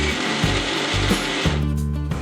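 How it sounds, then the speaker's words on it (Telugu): A kitchen mixer grinder whirs loudly, blending cake batter for a birthday donut cake in steady bursts, with the motor pitch dropping and rising at each pulse. "నేను మొత్తం మిక్సీ పట్టాలి"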